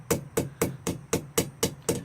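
A blacksmith's hammer strikes hot steel pipe while forging a taper, eight evenly spaced, ringing blows at a steady rhythm, loud and close with no talking.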